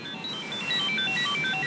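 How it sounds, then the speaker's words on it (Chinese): A telephone rings in an indoor drama scene, its electronic tones repeating in quick, steady bursts at a clear, moderate level with no talking over it. "对，接个电话。"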